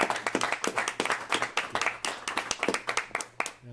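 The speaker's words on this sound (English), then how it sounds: "that folks deserves a round of applause" A crowd at a city council meeting breaks into applause, loud individual claps rattling in a quick, uneven rhythm close by before thinning out near the end.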